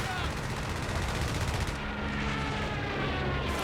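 Aircraft strafing run in Company of Heroes 3, a dense, continuous rattle of rapid machine-gun fire raking the ground, loud and unbroken for several seconds.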